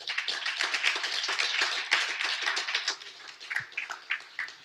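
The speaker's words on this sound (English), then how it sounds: "A round of applause for them, please." Audience applause at a startup conference panel: dense, sustained clapping from many hands that thins into a few scattered claps toward the end.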